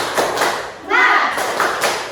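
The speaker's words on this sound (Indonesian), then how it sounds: "Tepuk semangat, semangat," A class of children does a rhythmic clapping chant during a microteaching lesson, with claps and taps alternating with group chanting voices in a steady pattern.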